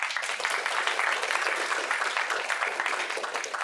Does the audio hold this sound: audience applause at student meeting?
yes